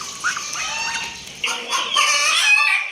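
A hen clucking and squawking loudly and continuously in a cage, growing more agitated toward the end, close by with no talking.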